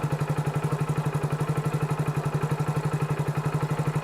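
A Hero Splendor BS6 motorcycle idles at about 1400 rpm, giving a steady, close, even low thumping pulse with a light mechanical clatter, and no other sound.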